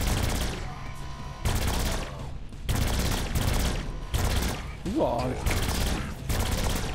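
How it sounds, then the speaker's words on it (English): Pistols fire in Saints Row 4 in rapid bursts of loud, close gunshots with short pauses between volleys, while a voice exclaims briefly. "The pistols have quite the power behind it."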